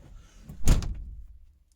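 A Trabant's driver's door shuts with a single solid thump, close by, followed by a brief rattle and then quiet.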